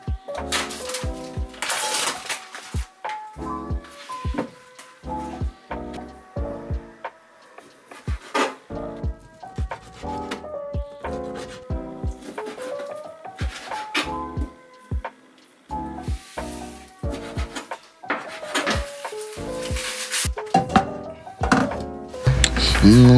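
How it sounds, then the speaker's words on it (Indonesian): A knife chops raw chicken into small pieces on a board for chajangmyeon, rapid irregular thunks close up under scattered voices and clatter. "kita mutilasi ayamnya, maksudnya potong kecil-kecil ayamnya"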